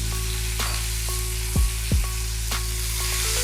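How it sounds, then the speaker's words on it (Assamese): Long, finely sliced onions fry in oil in a pan with a steady, dense sizzle. A few sharp clinks and scrapes of stirring break through the constant hiss. "তেলত মই এতিয়া পিঁয়াজটো ফ্ৰাই কৰি লওঁ"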